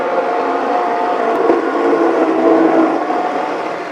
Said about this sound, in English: A good blender helps.